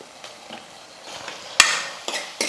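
Dried shark fish drops into onion-tomato masala frying in oil and gets stirred, a low sizzle under a few sharp clacks of a spoon against the pan.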